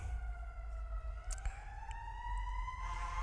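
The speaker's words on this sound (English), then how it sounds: "The fire truck, the fire engine." A fire engine siren wails from moderate distance, its tone sliding steadily upward over constant background road noise, with no one speaking.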